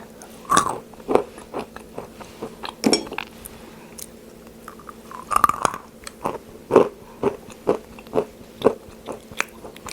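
Crunchy, sweet, buttery macadamia nuts chewed close up, with a steady series of sharp bites and crunches through the whole stretch and no talking.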